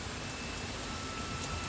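Heavy rain falling hard and steadily, a dense continuous broadband wash with no pauses, close and even throughout.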